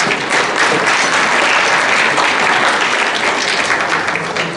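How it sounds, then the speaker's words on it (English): An audience at a women's softball Asia Cup awards ceremony applauds in a steady, loud wash of clapping that continues without a break. "a round of applause for putting up the stage for us to perform"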